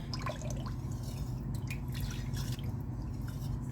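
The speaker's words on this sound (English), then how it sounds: "Just going to give that a little stir." A spoon gently stirs broccoli cheese soup in a pot, giving soft, wet, quiet sloshing and faint scraping over low background hum.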